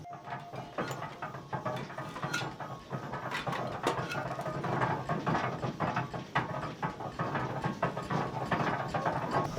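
Steam donkey logging engine running at a forest logging demonstration, with dense continuous mechanical clanking, ratcheting and gear rattle at steady loudness throughout, fairly close.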